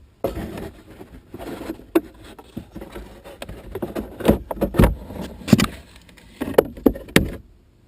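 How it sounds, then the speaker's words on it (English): A plastic cabin air filter frame being unclipped and pulled out of a 2006 Lexus IS350: a series of sharp clicks, taps and rustling scrapes, irregular and close, with quiet pauses between bursts. "You want to push those tabs in, lift the frame up, and then use the little handle in the middle to pull it out."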